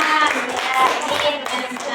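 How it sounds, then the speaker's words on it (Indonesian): Participants clap for Mas Herman during a small coaching session, a brief patter of a few hands that overlaps with voices in the room. "tepuk tangan untuk Mas Herman"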